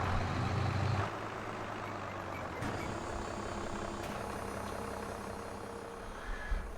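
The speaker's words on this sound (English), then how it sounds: "I kind of like these older tractors. I think they sound great." Older tractor engine in the video game Farming Simulator 22, a steady, close, fairly loud drone with a couple of brief shifts in pitch and load partway through, with no talking.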